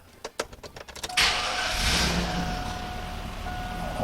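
A 2001 GMC 2500 pickup with a 6.0 engine and a long-standing check engine light cranks to life after a quick series of clicks, then settles into a steady, close-up idle rumble with a faint whine.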